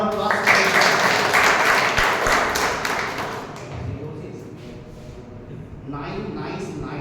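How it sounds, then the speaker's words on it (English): Applause from guests at a Toastmasters club meeting, a burst of dense clapping for about three and a half seconds that thins out, then a quieter spatter of claps near the end, with voices mixed in. "So can we have a round of applause?"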